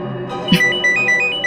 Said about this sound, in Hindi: ये डॉक्टर मानवी ने तो खुद ही फोन कर दिया